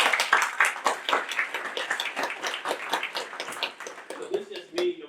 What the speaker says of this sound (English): let's give all the founders a round of applause for a great job this year